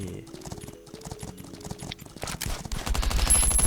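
Rapid hoofbeats of a horse in the video game Last Island of Survival clatter in a quick galloping rhythm, growing louder and denser toward the end, mixed with bursts of sharp gunfire-like game effects.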